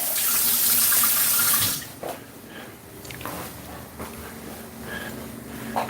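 Tap water runs steadily into a bowl for fish and chips batter, a loud continuous splashing rush for nearly two seconds, then stops, followed by faint clinks and handling sounds.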